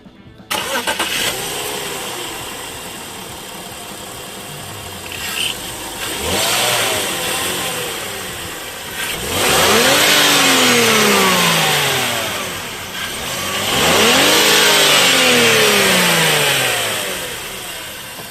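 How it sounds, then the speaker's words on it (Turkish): A BMW E60 520i starts up and then revs several times, each rev rising and falling in pitch in swelling bursts over a steady idle, loud and close with no talk. "Motor sesi güzel, içeriye de iyi geliyor."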